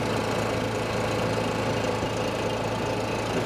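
Honda EU7000iS generator running steadily with an exhaust extension kit screwed onto its outlet, a constant close mid-low engine drone with a faint knocking texture and no change in pitch, no voices.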